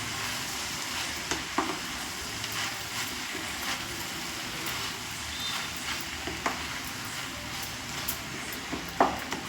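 Boiled pasta is stirred and tossed in a pan with a spoon, giving soft, steady scraping and light sizzling with a few sharper clinks of utensil against metal, heard close and alone.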